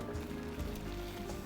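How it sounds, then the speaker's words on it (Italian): Water boiling in a pot before cooking farfalle pasta, a steady soft bubbling and hiss that fills the short stretch alone at low level without any voices. "Acqua che sta bollendo"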